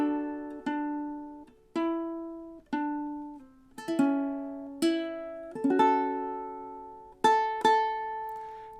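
Solo ukulele plays measures 5 and 6 of a song slowly, with about nine clear plucked notes and chords ringing out and decaying one after another at an unhurried, steady pace.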